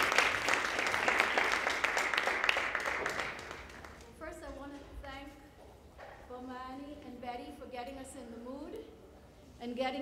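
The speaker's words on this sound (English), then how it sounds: "Can I get a round of applause for Joy Ford Austin?" Applause from an audience at an Emancipation Day event lasts a few seconds, a dense wash of clapping that fades out as a voice begins speaking, with talk continuing to the end.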